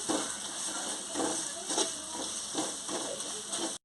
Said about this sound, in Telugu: అల్లం వెల్లుల్లి పేస్ట్ పచ్చివాసన పోయేదాకా ఫ్రై చేసుకోండి